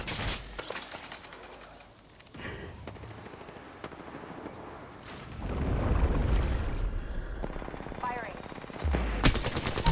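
Video game gunfire comes as rapid bursts of automatic shots, then a heavier stretch of firing and booms, with a player talking over the action.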